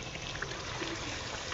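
Hot water being poured into a pot of beef curry cooked with seventeen spices, a faint steady splashing trickle heard close by for a brief moment.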